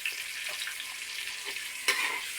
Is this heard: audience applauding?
no